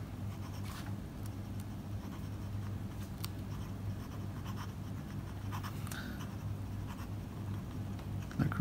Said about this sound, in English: let's have a small writing sample and see how does the nib works.